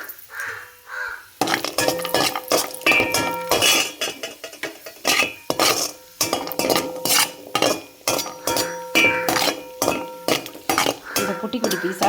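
Cashews roast in ghee in a kadai with repeated near, ringing metallic scrapes and clinks of a ladle stirring against the pan, coming in irregular bursts after a quiet opening.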